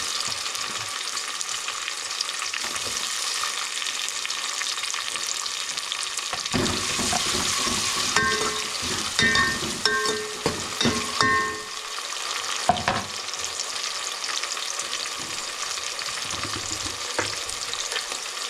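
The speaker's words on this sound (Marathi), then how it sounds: "आपला कांदा लाल झाला आहे आता टोमॅटो घालते" Chopped onion and tomato sizzle steadily in hot oil in a pan, with occasional stirring scrapes and clatter from a spoon, close and continuous throughout.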